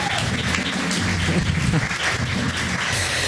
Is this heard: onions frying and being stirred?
no